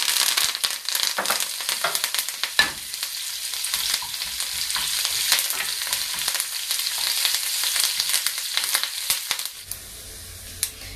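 Fennel seeds and curry leaves sizzle loudly in hot oil for a dosa chutney tempering, a dense crackling hiss with sharp pops and spatters that thins out near the end, with no voices.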